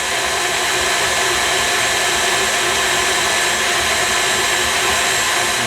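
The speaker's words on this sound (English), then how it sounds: "We're just gonna slowly add this down the side of the mixer here" Stand mixer whipping egg whites as hot sugar syrup goes in for Italian meringue, a loud, steady, unbroken whirring motor drone at constant speed.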